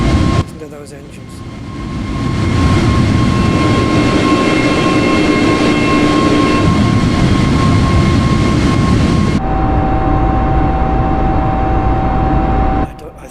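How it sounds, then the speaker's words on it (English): Aircraft engines in the video game Microsoft Flight Simulator roar as a loud, steady, close hum that holds level for several seconds, then shifts in tone near the end. "Listen to those engines."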